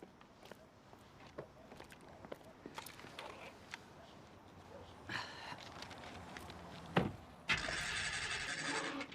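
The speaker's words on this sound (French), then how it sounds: "Vous avez cassé le démarreur?" A car starter cranks without the engine catching, a loud, close, harsh whirring burst lasting under two seconds at the end, after quiet interior rustles and clicks.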